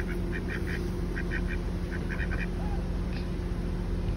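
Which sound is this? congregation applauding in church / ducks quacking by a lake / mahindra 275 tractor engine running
ducks quacking by a lake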